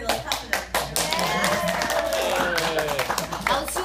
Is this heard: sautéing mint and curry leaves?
no